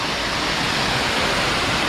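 Thung Na Mueang waterfall in Khong Chiam, Ubon Ratchathani, roars as a loud, continuous wash of rushing water filling the whole moment with no break.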